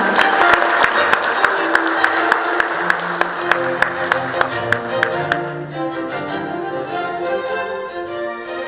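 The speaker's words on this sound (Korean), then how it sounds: "여러분 큰 박수로 맞이해 주시기 바랍니다." An audience at a corporate ceremony for a joint declaration claps to welcome a speaker, with sharp individual claps over a crowd's applause that fades out halfway while a soft background musical tone carries on.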